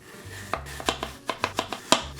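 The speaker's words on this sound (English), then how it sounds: "now I'm gonna cut, again, really thin slices" A knife slices thinly through half an apple onto a cutting board, giving about a dozen crisp, close taps in a quick, slightly uneven rhythm.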